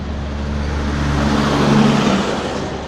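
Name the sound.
cars and trucks passing on a road in Jamaica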